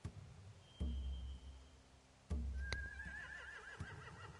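Horses in The Walking Dead video game, a faint distant whinny with a wavering high neigh and a few soft thuds and hoof-like knocks in a quiet scene.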